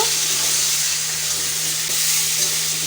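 Spice paste with chilli powder sizzles steadily in a hot pan while being sautéed for bhola fish curry, a continuous close frying hiss with a faint low hum beneath and no talking.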